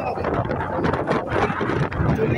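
Strong storm wind out on the Baltic Sea, heard from a boat: a rough, roaring gusty rush that buffets the microphone steadily for a couple of seconds.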